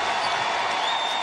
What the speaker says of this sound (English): Minnesota always has an incredible crowd.